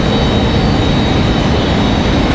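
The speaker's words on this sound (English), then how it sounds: "And we still have that United 737 down at the end of the runway, ready for its departure." A United Boeing 737 jet waits at the end of the runway for departure, its engines giving a loud, steady roar that fills the whole stretch without a break.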